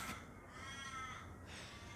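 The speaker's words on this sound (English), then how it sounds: "Tell ya, these crows." Several crows caw outdoors at a campsite, their harsh calls repeating and overlapping across the whole stretch at moderate distance, with no talking.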